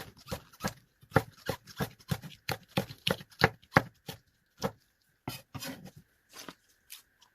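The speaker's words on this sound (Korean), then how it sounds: "그리고 청고추, 홍고추를 같이 썰겠습니다." A knife chops green and red chili peppers on a board in quick, crisp strikes, a fast run of close taps that slows into scattered single cuts, with no talking.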